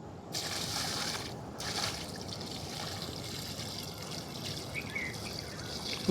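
Water poured steadily onto the soil around a young coconut sapling in a three-year-old planting, a continuous close trickle and splash lasting the whole stretch with no talk.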